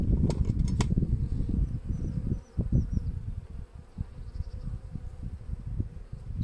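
Dense buzzing of many honeybees during queen rearing fills the scene, steady and close, with a few sharp clicks early on and no talking.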